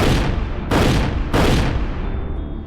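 Three loud gunshots in quick succession, each a sharp broadband blast followed by a short ringing decay, evenly spaced about two-thirds of a second apart.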